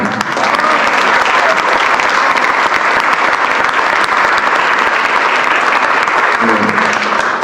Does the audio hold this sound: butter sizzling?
no